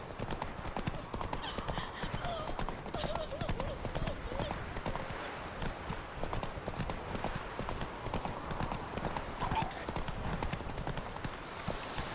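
Hooves of Roach, a horse in The Witcher 3, pound in a steady galloping clip-clop through the whole stretch, with faint voices and game sounds underneath.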